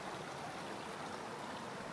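Crystal-clear, cold river water ripples over pebbles on a calm nature walk in Australia, making a soft, steady, even rush with no voices.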